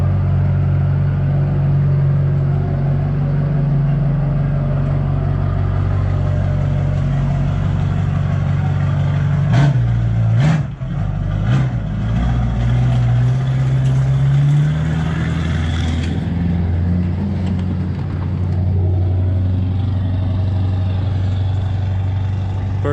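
A freshly swapped-in LB7 Duramax diesel engine runs loud and close. It holds a steady, rumbling idle with a brief throttle blip midway and a few clanks, with no talk.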